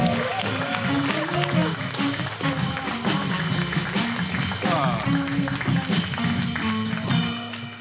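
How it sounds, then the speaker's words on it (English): A stand-up comedy crowd applauds as comedian Radu Bondar is brought on stage. The clapping is dense and steady, with music playing underneath. "Start clapping your hands right now for Radu"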